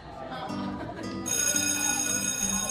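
Electronic school bell from the game DreadOut 2 rings steadily and loudly, a continuous tonal ring that grows brighter partway through, with people talking over it.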